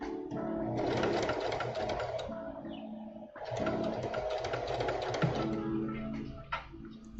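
A sewing machine stitches fabric for a symbiote costume suit, two long runs of fast, loud mechanical whirring and clatter separated by a brief pause, ending with slower, uneven clicks from hand cranking.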